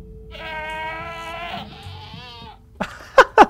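Goats in the Minecraft video game bleat, a long wavering call followed by a second shorter one, then a few sharp loud blips near the end, heard clearly with no talk.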